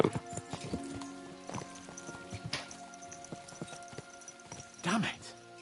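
Horses in the video game Kingdom Come Deliverance 2 clip-clop along at a brisk pace, hooves striking in a steady rhythm, with a whinny near the end and voices talking over them.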